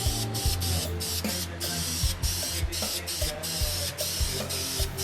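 Spray paint coats a Harley engine in short, repeated hissing bursts with brief gaps between passes, close and fairly loud.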